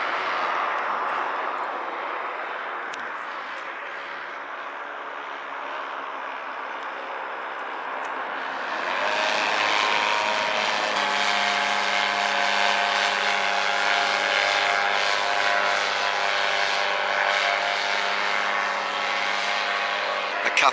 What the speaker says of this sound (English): a couple of rather noisy motorised paragliders